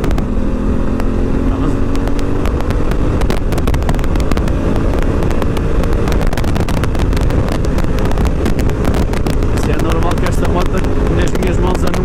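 Honda Africa Twin 2017 motorcycle on a test ride, its engine held open and pulling steadily under constant heavy wind buffeting, with a rider talking throughout.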